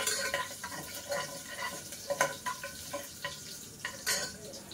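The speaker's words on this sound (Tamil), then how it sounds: "எண்ணெய் காய்ஞ்சிருச்சுப்பா, இதை போட்டுக்கலாமா? போட்டுட்டு வதக்கிக்கலாம்." Cashews sautéing in hot oil crackle and sizzle faintly while a utensil scrapes and taps the pan in an irregular rhythm, with no voices.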